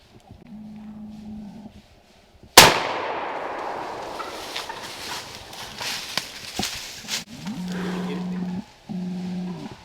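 A single loud, sharp shotgun blast fired at a wild turkey gobbler outdoors, coming after a quiet stretch and trailing off into a short ringing echo, followed by rustling movement and faint low tones.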